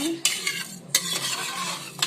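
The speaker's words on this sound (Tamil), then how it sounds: "நல்லா கலந்து விட்டுருங்க" A utensil scrapes and clinks against a large pot of venpongal, a South Indian rice and lentil dish, in a few distinct stirring strokes, close up, with a soft cooking hiss underneath.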